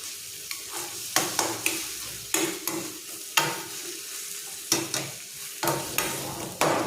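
Onion frying and being stirred for a Malvani dried bombil (Bombay duck) chutney, with a low sizzle broken by sharp, irregular scrapes of a spatula against the pan, heard up close.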